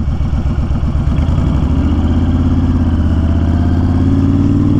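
A 2020 Honda Fury motorcycle engine fitted with a Cobra fi2000 tuner idles with a loud, close, steady lumpy pulse, then the throttle is blipped and the tone rises and holds as it revs.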